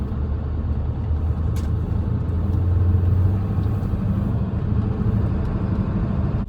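A 7.3 diesel OBS Ford F250 truck pulls away under acceleration with a loud, steady low rumble that swells slightly midway and holds through the drive, with no talking.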